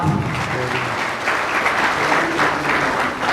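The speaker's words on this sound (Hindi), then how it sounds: "हर अच्छे काम के बाद तड़कड़ वाली तालियां तब है कोई बात" Applause at an honouring ceremony during a Vishwakarma Jayanti gathering: a crowd claps steadily and loudly for the whole moment, dense and sustained, with no speech over it.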